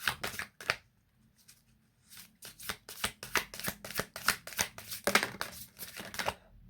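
Tarot cards being shuffled and drawn: soft, papery riffles and slaps come close and fairly quiet in irregular bursts, with a short lull before a busier run of flicks.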